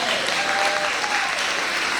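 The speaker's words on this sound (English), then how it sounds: "let's give a huge round of applause for Mrs. Anderson" At a school ceremony, an audience gives loud, dense applause for a teacher, a continuous wash of many hands with a faint voice mixed in underneath.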